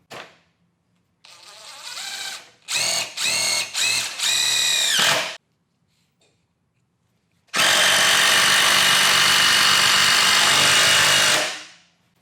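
Cordless power driver with a DeWalt FlexTorq bit driving Tapcon-style anchors, in two bursts: a short stuttering run of several pulses, then after a pause one long steady whine lasting about four seconds, loud and close.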